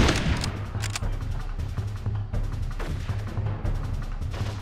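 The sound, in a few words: assault rifle fire in the video game Darkest of Days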